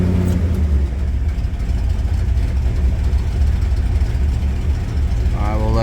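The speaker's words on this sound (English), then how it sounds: "let's kick off that choke and see if she runs" A 1956 Ford engine keeps running just after the choke is kicked off, a loud steady low rumble at close range with slight surges and a short rise toward the end, and someone talks over it.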